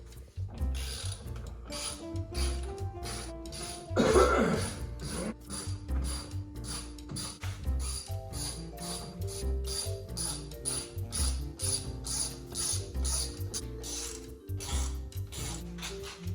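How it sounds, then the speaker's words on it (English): A T25 Torx driver backs out screws from the wiper valence of a 1999 Grand Voyager van, with rapid repeated ratcheting clicks, close and steady throughout, with one louder knock partway. "you'll take your T25 and you remove that screw, that screw, that screw"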